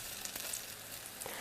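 Eggplant pan-fries in hot oil, sizzling until browned, with a soft, steady hiss and a few faint crackles over a brief moment; no voices.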